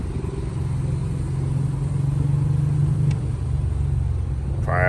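Steady low rumble of road and engine noise inside a 2024 Mercedes GLE 450 cruising through the city at night, continuous and fairly loud, with a brief faint click near the end.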